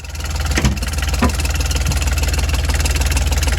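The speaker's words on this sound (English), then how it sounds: "Okay, let's start the engine." Volvo Penta marine engine on a boat turning over and catching, then settling into a steady, loud, close idle with a rhythmic low throb and no talk.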